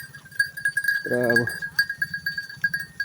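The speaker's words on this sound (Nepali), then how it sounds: "अझै टोटल एकै मुष्ट बाख्रा आएको छ" A herd of mother goats crosses a bridge with a brief burst of bleating in the middle, set against a steady bell-like ringing tone and rhythmic shuffling, while someone talks over the scene.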